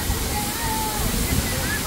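A cold waterfall roaring steadily nearby, a continuous broadband rush of falling water with no breaks.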